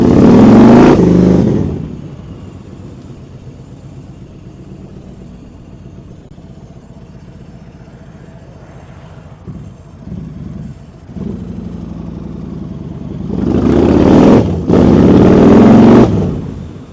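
A Yamaha Stratoliner 1900 motorcycle engine revs in two loud bursts, one at the start and a longer double burst near the end, with a quieter idle rumble between them.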